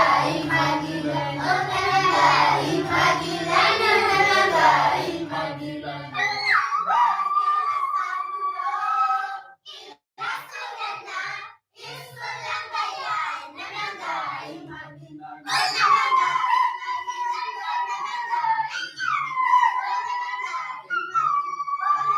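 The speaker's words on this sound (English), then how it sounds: "Ululation." A group of Maasai people in Tanzania ululate in joy, with high trilling tongue-driven cries that rise and fall in overlapping bursts, loud and close, with brief pauses between waves of voices.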